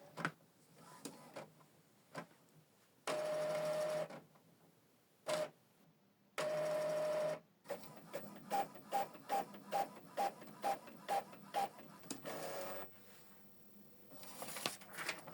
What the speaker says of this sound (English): Select print test page.